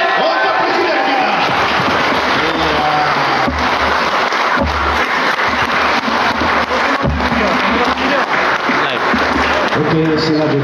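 A large audience applauds the President enthusiastically in a dense, sustained wave of applause at a political gathering, with voices and cheering mixed in.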